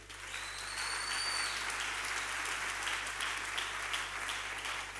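A church congregation applauds steadily for the whole stretch, a dense, even wash of clapping with no talk over it.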